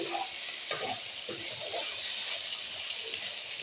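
Taro roots and potatoes frying in a pan with salt and chili, giving a steady close sizzle with faint stirring scrapes, under a cook's talk.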